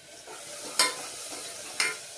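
Green chilies and curry leaves hitting a hot pan in a home kitchen, producing a steady sizzling hiss with two sharp bursts of crackle as they drop in, no one speaking.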